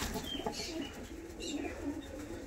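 Fancy pigeons kept for sale, such as Madras birds, give low, murmuring coos at close range alongside faint chirps and a little background rustle.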